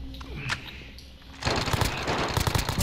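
Gunfire in a shooter video game starts about halfway through: after a quieter stretch of scattered shots, rapid bursts of automatic fire crackle loudly and continuously.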